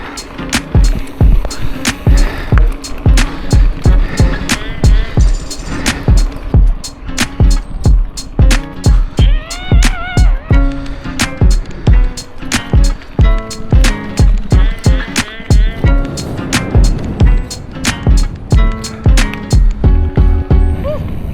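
A Specialized Epic Evo mountain bike rolls over an easy gravel trail in Nottinghamshire, giving a steady loud rattle and crunch with many sharp repeated clicks and knocks from the bike as it bounces along, close to the microphone.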